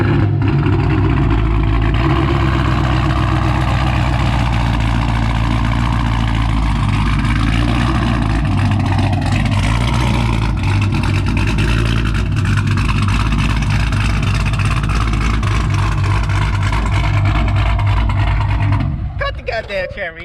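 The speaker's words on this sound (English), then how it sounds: "This is my exhaust." A Cadillac CTS-V with a Cletus McFarlane body and boost cam idles with a loud, lumpy, deep exhaust burble, swelling slightly with revs, close and continuous before fading at the end, while a voice talks over it.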